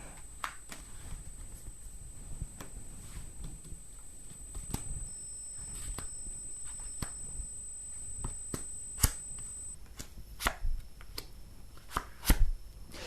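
Tarot cards are shuffled during a live televised psychic reading, with soft papery riffles and scattered sharp taps against a faint, steady background hum.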